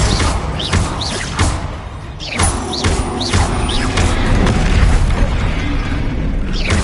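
The Bombarda explosion spell goes off in the Hogwarts Legacy game amid combat: repeated loud booms and thuds with whooshing sweeps and crashes, dense and close throughout.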